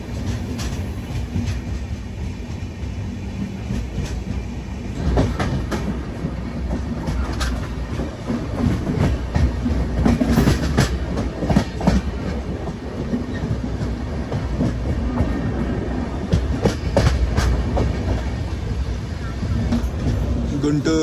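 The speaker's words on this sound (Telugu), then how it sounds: "ఏం ట్రైన్ ఇది? మధురై బికనీర్ ఎక్స్ప్రెస్." The Madurai Bikaner Express passes close by with continuous loud rumbling and repeated clickety-clack wheel beats. People talk through the noise.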